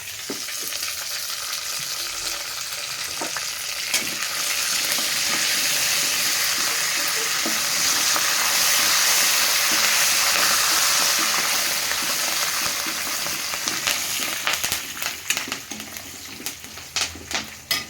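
Dry red chillies and curry leaves fry in hot oil for a tempering, giving a loud continuous sizzle that swells in the middle and ends with a few crackles and stirring clatters.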